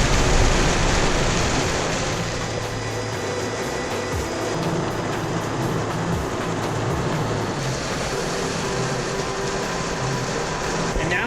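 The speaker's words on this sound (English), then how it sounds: "Look at that rain." Heavy rain pours down on a road in the high country during an unforecast mountain storm, a dense, loud, steady hiss and roar that fills the whole clip without letting up.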